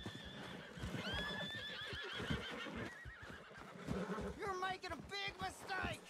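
Horse riding in the video game Red Dead Redemption 2: hoofbeats clip-clop steadily while a horse neighs and whinnies several times, loud and close, with occasional speech mixed in.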